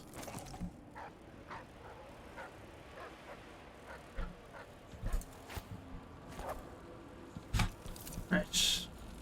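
Dogs in the Dishonored 2 video game whimper and yip in short scattered bursts against quiet ambient game sound, some faint and distant, a few louder and closer toward the end.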